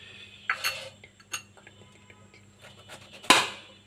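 A knife works through washed fruit for custard, giving faint, sparse clicks and a few sharper clinks against a board or dish in a quiet kitchen.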